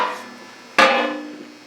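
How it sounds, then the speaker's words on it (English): A steel receiver wrench drops off a Yugoslav M48A Mauser action and lands with a single loud metallic crash, ringing on and fading over a second, after a faint tail of an earlier ring. "I hope you'll excuse the crashing noise as the receiver wrench fell off"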